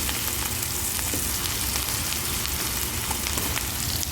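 Chicken breast fries in a pan for a rice and okra stir-fry, giving a dense, continuous sizzle and crackle that stays loud and even throughout, with no voices.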